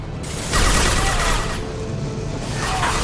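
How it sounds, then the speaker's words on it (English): An impact shot fired in Mass Effect 2, a loud burst of mechanical clatter and booming blast over dense combat noise that stays heavy throughout. "Firing an impact shot."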